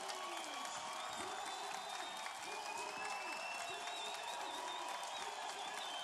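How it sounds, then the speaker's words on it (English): A crowd cheers and applauds at a beach volleyball semifinal at the Maceio Open, a steady roar of clapping and whoops under a continuous high whine, fairly distant and even. "The crowd go wild."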